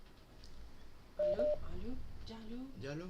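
A telephone call connects live on a radio show with a short pair of dial tones, followed by a faint line hum and talking over the phone line.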